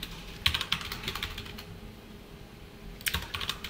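Code being typed on a computer keyboard, with quick clusters of light clicking keystrokes near the start and again near the end, a quiet pause between them and no talking.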